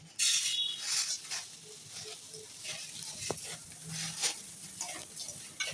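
Chilli, fenugreek and salt dry-roast in a pan, a faint dry rustling and scraping as the mixture is stirred, with a sharp clink near the middle and soft background murmur.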